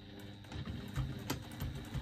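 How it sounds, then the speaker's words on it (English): A sewing machine runs a quarter-inch seam around a bag's slip pocket, giving a soft, quick mechanical whir with faint rhythmic stitching pulses throughout. "I'm going to stitch all the way around using a 1/4 inch seam allowance"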